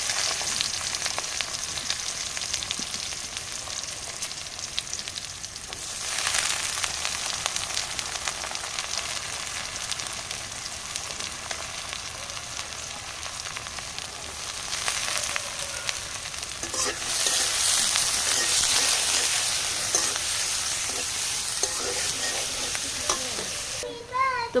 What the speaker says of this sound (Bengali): তেলটা গরম হয়ে গেছে। এখন এখানে দিয়ে দিব পেঁয়াজ কুচি।